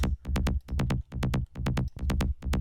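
A psytrance kick and rolling bassline share the same EQ, punchy thumps driving a fast, steady pulse with tight off-beat bass notes, loud and alone.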